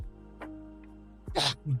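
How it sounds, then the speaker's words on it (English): A single close sneeze bursts out with a sharp, breathy explosion after a quick inhale, followed by a short vocal murmur. "I have to sneeze."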